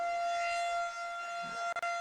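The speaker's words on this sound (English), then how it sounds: "As you can hear, that's a loud siren." A loud civil-defense-style siren blares at a lacrosse field during a high school game, a sustained steady wail filling the space, with a couple of brief dropouts near the end.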